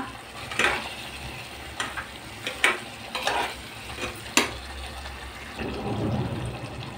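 Soft sizzling of masala roasting in oil in a pressure cooker, with a few sharp clinks and scrapes of stirring, close by, then a low frying hiss toward the end.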